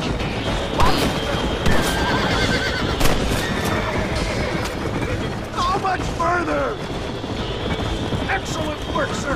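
Horses in the Red Dead Redemption video game neighing and whinnying several times over a busy backdrop of hoofbeats and mechanical game noise, with someone talking throughout.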